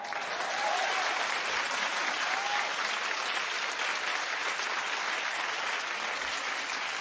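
Sustained studio audience applause for Vanessa Williams on a daytime talk show, a dense steady wash of clapping that stays loud and even throughout with no voices over it.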